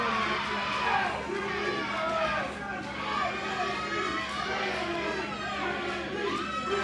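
A wrestling crowd at an intergender tag match cheering and shouting, a loud sustained roar of many voices with rising yells, while a commentator talks over it.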